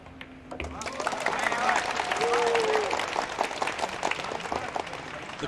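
Crowd applause at a professional pool match at the Hanoi Open Pool Championship, swelling and then fading as a commentator talks over the clapping.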